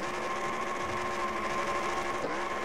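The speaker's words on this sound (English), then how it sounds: "Doing some burnouts." A stock car in a racing video game holds a steady engine drone through its burnouts, a continuous buzzing whine that stays even and close, with no voices over it.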